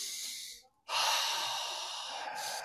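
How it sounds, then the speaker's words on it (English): A deep breath drawn in through the nose and pushed out through the mouth, a close airy exhale, then a short pause and a long, steady rushing breath with no talking. "alkaline breathing, which is just inhaling through the nose deeply and exhaling out the mouth"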